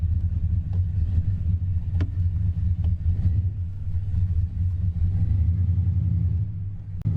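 A Jeep Grand Wagoneer that had sat seized for years runs steadily while driving, its engine giving a constant low rumble throughout with a few faint clicks and knocks over the top.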